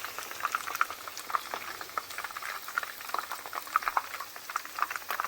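Spiced chicken pieces fry in hot oil with a continuous bubbling sizzle and scattered pops, steady and close, with no talking.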